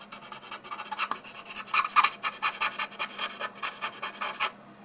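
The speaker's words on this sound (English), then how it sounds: "I just want to do more smoothing at a higher angle." Platinum Preppy fountain pen nib, freshly stub ground, being smoothed at a higher angle: a steady, close rasping scratch with rhythmic strokes, fairly quiet and heard alone.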